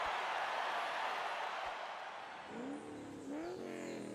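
Maverick XRS Turbo UTV in Forza Horizon 5 with a steady, broad engine roar that holds loud and close, then eases slightly as a few rising whine-like sweeps come through near the end.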